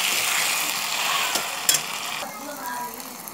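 Sugar being stirred into frying sabudana pakodi batter in a pan, a steady loud sizzling hiss with a few scraping clinks of the spoon, close up and without talk.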